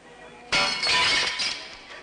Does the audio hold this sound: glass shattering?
yes